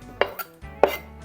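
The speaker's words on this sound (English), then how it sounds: "Then I'm going to start chopping our tomato." Knife chopping a tomato on a cutting board, two distinct sharp chops with a lighter tap between, close and clear with no talking.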